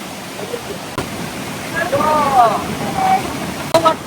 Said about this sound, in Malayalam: ഒരു ചെറിയ വെള്ളച്ചാട്ടമാണ് ഈ കാണുന്നത്